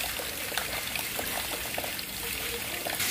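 Heavy rainwater pours and trickles down the steps into a flooded house in a continuous close rushing wash, with no voices over it.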